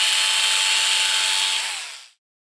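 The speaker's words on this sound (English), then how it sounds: "Now we're going to be drilling our 4 holes, 2 in each side" A drill spins at a steady high whine for about two seconds, drilling holes in stock for a motorized-bicycle chain tensioner, then winds down and stops abruptly into silence.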